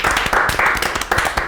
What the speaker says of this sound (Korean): 심재국님께 박수 드리겠습니다.